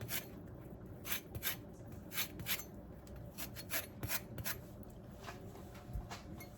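A kitchen grater is rubbed and scraped at close range in a quiet room, producing a series of short, rasping strokes in an irregular rhythm, fairly faint overall.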